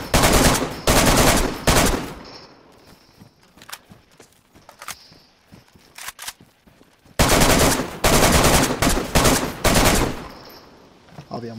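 Gunfire in the video game DayZ during a base raid, loud sustained automatic bursts in two clusters with sparse single shots and faint movement between them.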